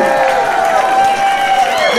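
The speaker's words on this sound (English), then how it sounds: "big round of applause" Concert crowd at a show cheering and applauding, a loud continuous roar of clapping and shouts with sustained tonal sounds running through it.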